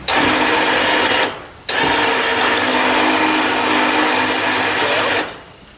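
A winch on a Suzuki pulls a log, its geared motor whirring loudly and steadily, cutting out briefly near the start, restarting, then stopping again near the end.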